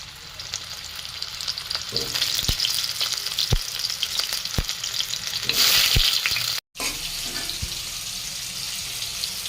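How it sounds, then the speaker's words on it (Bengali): Pumpkin pieces frying in mustard oil in a wok on a gas stove, a loud, dense continuous sizzle with scattered sharp pops and clicks of stirring, briefly swelling louder before a momentary dropout. "এবার কুমড়াগুলো প্রথমে ভেজে নেব।"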